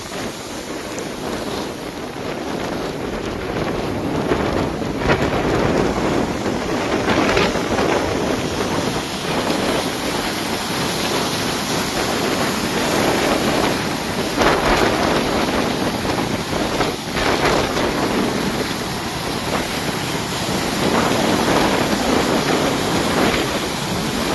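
Rough sea waves pound at a port during a high-wave warning, a loud continuous wash of surf and wind noise with no voices.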